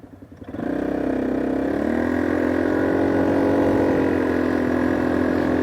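A Sym Trackrunner 200 motorcycle engine starts with a few uneven chugs, then settles into a loud, steady idle with a rich, even drone, heard close.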